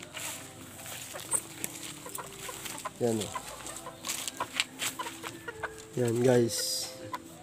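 Chickens cluck in bursts on a poultry breeding farm, two louder close calls standing out among scattered softer clucks, while someone talks casually over them.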